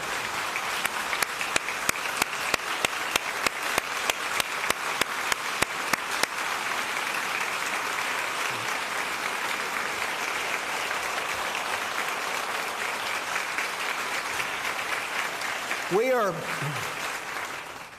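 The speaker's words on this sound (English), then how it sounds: "I want you to give them applause, if you would, for the work they're doing" Sustained audience applause rolls through a chamber during a state of the state address, a few sharper nearby claps standing out early, with a brief voice near the end.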